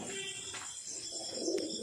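Domestic pigeons coo softly in a loft, a few low murmuring calls close by against a quiet background, with no talk.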